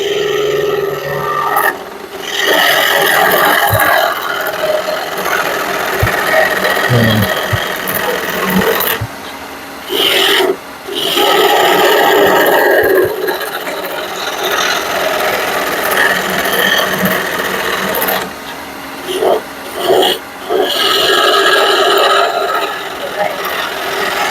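A skew chisel cuts into wood spinning on a lathe, giving a loud rough rasping scrape that comes in long sustained passes broken by short pauses.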